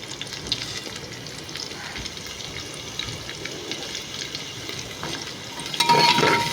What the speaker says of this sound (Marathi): तो मी ह्याच्यामध्ये घालणार आहे आणि हा पण थोडासा परतून घेणार आहे एक 5 मिनिटासाठी